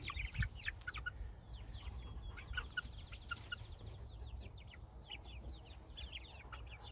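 Six- to seven-week-old meat chickens cluck softly and peep in high chirps, a busy scattered chorus that goes on throughout, fairly quiet and close.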